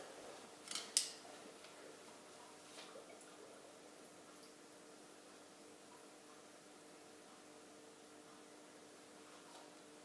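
A plastic bag of live sand for an aquarium being cut open with scissors, a short pair of crisp snips near the start, then quiet room tone for the rest.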